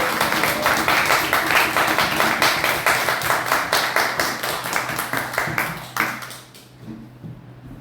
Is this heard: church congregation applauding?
yes